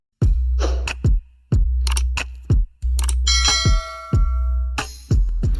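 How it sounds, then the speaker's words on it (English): Sharp, bright bell dings ring out repeatedly in an irregular rhythm, each one loud and close with a ringing decay, like a notification bell sound effect. "you press the notification bell"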